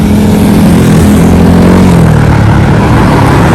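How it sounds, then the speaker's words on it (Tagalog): Motorcycle engines roar continuously on a busy street. The sound is loud and near, with a low droning rumble whose pitch dips slightly as a bike passes. No one speaks. "Kaiingay naman ng mga motor dito."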